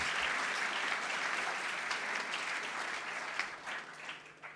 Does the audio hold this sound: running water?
no